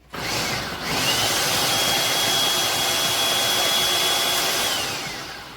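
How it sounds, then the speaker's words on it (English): A food processor blade whirs steadily for several seconds as butter is worked into flour for biscuits, a loud continuous motor drone that starts abruptly and runs without pause before easing off at the end. "I'm going to put that in the food processor, which I've done here, and I'm going to mix it until it's basically the texture of cornmeal."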